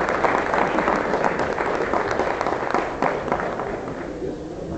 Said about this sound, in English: Give him a big round of applause for this.